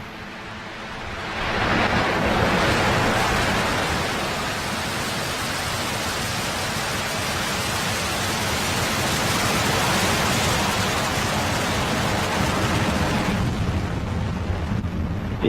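A SpaceX Falcon 9 rocket lifting off from Kennedy Space Center carrying KoreaSat 5A, a loud, broad, rumbling roar that swells in within the first two seconds and holds steady before easing near the end.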